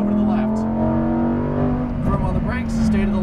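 A Lamborghini Huracan Performante held at full throttle on a racetrack, its engine a loud, sustained steady roar with rising harmonics close by, while a voice talks over it.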